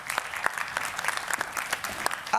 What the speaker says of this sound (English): Round of applause to Veronica, please.